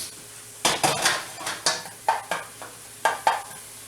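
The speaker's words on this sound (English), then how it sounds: "So I'm gonna let them saute." Chopped onions sautéing in a pan while a utensil stirs them, a soft sizzle under a series of sharp scrapes and clinks against the pan, close and irregular, about ten strokes.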